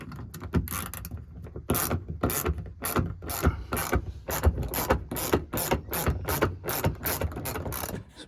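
Rapid ratchet clicking from a wrench fitted with a 10mm socket as it backs out a bolt on a Toyota RAV4 trunk panel, a steady run of close, loud bursts of clicks with short pauses between strokes.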